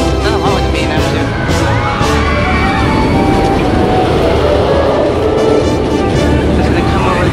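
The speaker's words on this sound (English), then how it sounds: "There's the yellow train going up right now." The RailBlazer roller coaster train runs along its track with a rolling roar and rattle that swells over a noisy outdoor amusement park background, while someone talks over it nearby.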